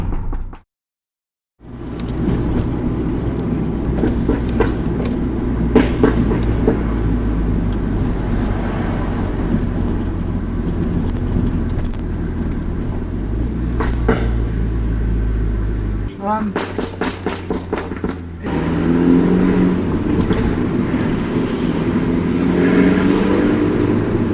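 A Lohen-modified Mini John Cooper Works Clubman engine drones loud and close, revving continuously, with a run of sharp exhaust pops and crackles near the middle that echo off a nearby wall before the engine note rises again.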